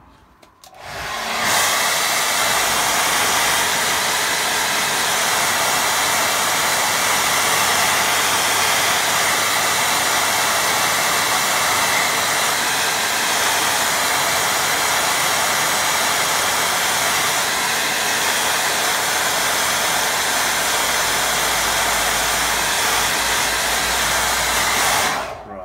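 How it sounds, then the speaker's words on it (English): A hair dryer blows steadily and loudly on a watercolour painting of a little pond, its continuous whooshing roar running alone for most of the stretch with no talking. "give this a quick little blast with dryer"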